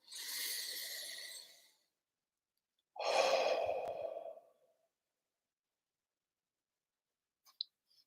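Two slow, audible breaths during a Reiki counting exercise, a long exhale followed by a deeper breath after a pause, close and quiet, then a faint click near the end.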